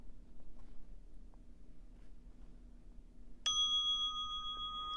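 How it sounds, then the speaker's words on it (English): A mindfulness bell struck once, ringing out clearly with a sustained, slowly fading tone over faint room hush during a guided meditation class. "So we're going to listen to the bell."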